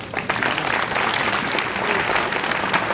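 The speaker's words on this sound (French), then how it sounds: "Et je voudrais encore une fois qu'on s'applaudisse très fort." At an official Pâquinou 2019 ceremony in Cavally, a crowd applauds loudly and steadily, a dense clatter of many hands clapping for the full few seconds.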